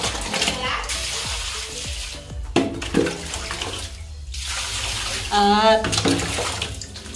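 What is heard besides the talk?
water running from a tap while washing slippers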